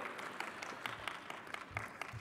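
Audience applause at a plenary session on agriculture, a steady patter of many hands clapping that carries at a moderate, fairly distant level, with no voices over it.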